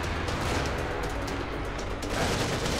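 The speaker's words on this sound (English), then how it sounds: "You're gonna be shooting." Sustained automatic gunfire in The Evil Within, a dense, loud, unbroken rattle of shots with heavy low rumble throughout, no speech.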